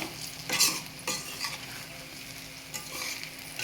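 A spoon gently stirs stuffed brinjals frying in a pan with chili powder, giving soft scraping strokes over a steady sizzle of hot oil, close and quiet, with no talk.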